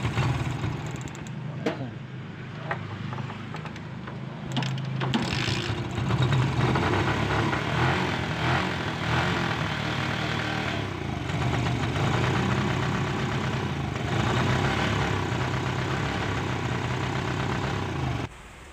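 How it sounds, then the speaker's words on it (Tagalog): Bajaj CT100 motorcycle engine idling close by with a slight knock and uneven misfiring, a steady mechanical rumble running throughout with a few sharper clicks early on. "Basta marinig nyo yung makina niya, may kaunti siyang knocking."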